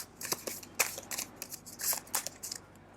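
A deck of handmade oracle cards is shuffled by hand, a close, steady patter of riffling and sliding card edges in several bursts over a few seconds, with no voice.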